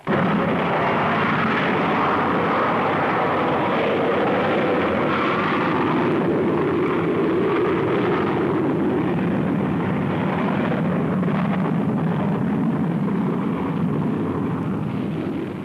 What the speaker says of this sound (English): On this day, the launch of another Saturn 1B rocket.